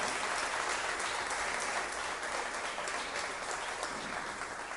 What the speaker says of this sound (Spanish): Bueno, un aplauso para Claudio.